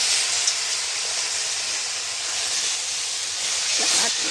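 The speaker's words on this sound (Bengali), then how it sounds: "এবার আমি কড়াইতে জল দিলাম" Water poured into a hot wok of fried mung dal gives a loud, close, continuous hiss and steamy sizzle that holds steady throughout.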